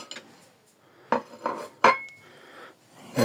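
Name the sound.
knife scraping a pot to test its coating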